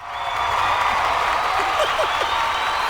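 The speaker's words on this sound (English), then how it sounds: "anytime I cue the claps in back to back like that" A canned applause and crowd sound effect cued in on a podcast rises quickly into a steady wash of clapping and cheering, with a faint voice briefly audible beneath it.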